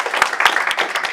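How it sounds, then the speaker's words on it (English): Audience applause at an entrepreneurship council business-funding event in Dothan, Alabama: a short burst of many hands clapping at once, dense and steady across the room, with no voices over it. "Give Mr. Bo Strong a hand"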